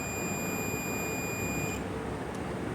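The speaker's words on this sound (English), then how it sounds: "When I put it to continuity mode, I hope you can see it, and it should beep when I touch these together." A multimeter set to continuity mode gives a steady high-pitched electronic beep that holds for nearly two seconds and then cuts off, over a loud hissing background.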